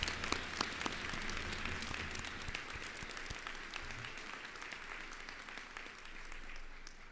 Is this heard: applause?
yes